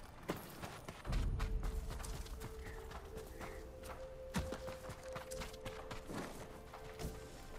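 Horse hooves clip-clopping in the video game Ghost of Tsushima, a series of close, uneven footfalls heard alone, with a heavier thud near the start.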